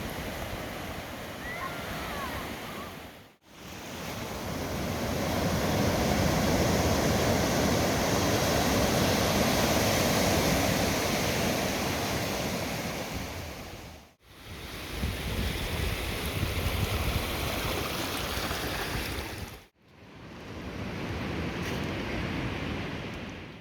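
Surf at Ruby Beach, a cold Pacific shore, rolls in a continuous loud roar that swells and recedes, with gusty wind buffeting the microphone and abrupt cuts between takes.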